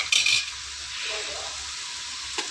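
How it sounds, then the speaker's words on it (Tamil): Ginger and garlic sauté with onions in a pan for biryani, giving a steady close sizzle, with a scrape of a stirring utensil at the start and a light clink near the end. "இஞ்சி பூண்டு நல்லா வதங்கட்டும்"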